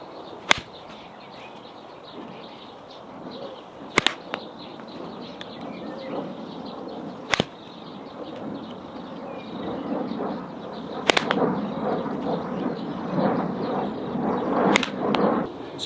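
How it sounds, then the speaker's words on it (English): Ten golf shots struck with a 50-degree wedge outdoors during a pre-round warm-up, each a sharp, crisp strike, spaced irregularly a few seconds apart over a rustling outdoor background that grows busier toward the end. "So I'm going to hit 10 shots with my 50 degree now"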